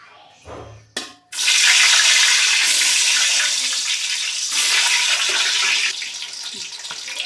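Eggs hit hot oil in a pan while cooking egg dum biryani, setting off a sudden loud sizzle after a brief clatter; the hissing crackle then carries on steadily and close.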